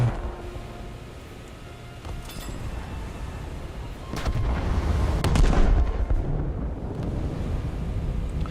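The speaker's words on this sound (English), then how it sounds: "Did my front gun shoot even though it wasn't aligned?" A warship's front gun fires in a naval game, a deep, heavy boom that swells and rumbles over a low background din, with scattered distant shots around it.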